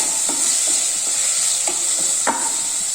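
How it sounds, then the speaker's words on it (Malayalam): Turmeric powder being sautéed in a pan for lemon-ginger rasam, with a steady soft sizzle and a few light scraping stirs of a spoon against the pan. "മഞ്ഞൾപ്പൊടി ഒന്ന് വഴറ്റി കൊടുത്തിട്ട് അതിന്റെ ആ ഒരു റോട്ടേസ്റ്റ് ഒന്ന് പൊയ്ക്കോട്ടെ"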